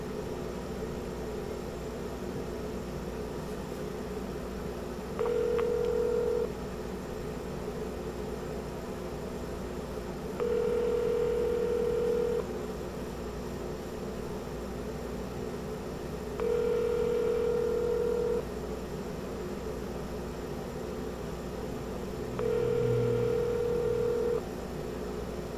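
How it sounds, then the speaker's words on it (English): A phone line rings out, four evenly spaced tonal ringback bursts about six seconds apart over a steady background hiss, with no one speaking. "Let's call Lindsay."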